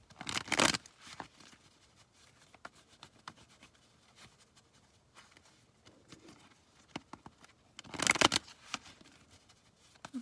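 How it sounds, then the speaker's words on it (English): Tarot cards being shuffled by hand, with two loud, close riffling bursts near the start and end and softer rustling, tapping card handling in between, no talking. "I just want to make sure I shuffle good."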